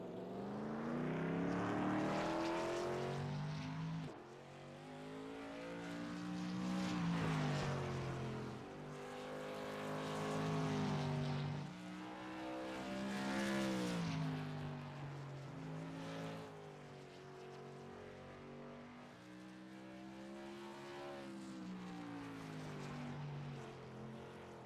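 A modified race car runs qualifying laps at Oxford Plains Speedway, its engine a steady, harmonically rich drone that swells and fades repeatedly as it circles the track at a moderate distance.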